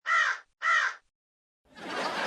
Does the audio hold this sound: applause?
no